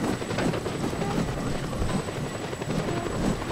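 A helicopter in the video game Just Cause 2 gives off a loud, continuous rotor and engine roar, steady and close, with no talking over it.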